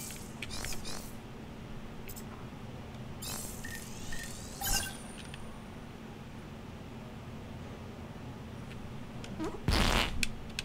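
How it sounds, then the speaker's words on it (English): A cartoonish fart effect from the South Park video game The Fractured But Whole, a short burst near the end over steady game background noise, with a few brief clicks and chimes earlier. "Oh, I gotta do a fart thing first."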